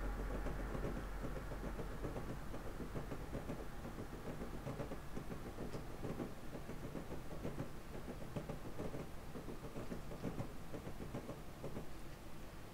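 Train in Train Simulator 2019 on the Miami–West Palm Beach line rolling over a diamond rail crossing, a steady rumble with repeated clattering knocks from the wheels, continuous throughout.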